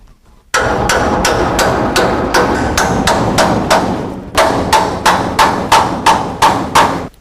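Loud, sharp metallic hammer strikes drive a seam buster chisel into a spot weld in a steady rhythm, about fifteen blows, with a brief pause midway before the pounding resumes.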